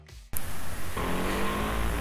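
A Yamaha MT 15 motorcycle engine of 19.3 PS and 14.7 Nm bursts into a loud, close rev after a brief quiet start, then holds a sustained high-pitched drone that climbs slightly in pitch.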